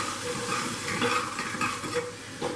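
Vegetables seasoned with salt for foxtail millet khichdi are stirred in a pot, giving a soft continuous sizzle with light scraping, fairly quiet and close, no talk.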